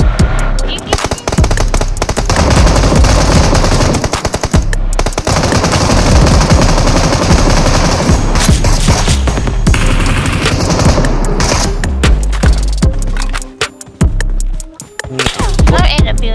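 Video game gunfire in a shooter, loud and dense, with rapid automatic bursts and single shots packed together almost without pause, thinning into scattered shots near the end.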